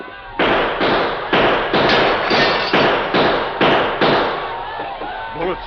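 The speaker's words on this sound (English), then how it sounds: "They won't expect gunfire from here." Gunshots in a 1944 Lone Ranger radio drama: a rapid volley of about a dozen loud, sharp cracks fired in quick succession, with voices faintly underneath.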